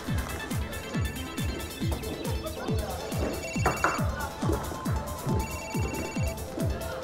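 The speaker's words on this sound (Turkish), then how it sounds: "Ahmet, beni hala arıyor." A telephone rings repeatedly in a steady pulsing pattern that runs the whole way through, with voices talking faintly underneath.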